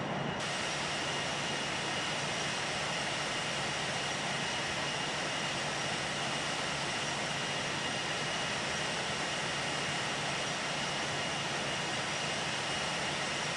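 Steady, dense engine roar from inside a China Southern Boeing 787-8 jet airliner taking off from Incheon, a constant loud broadband rush with a faint high whine throughout, no speech.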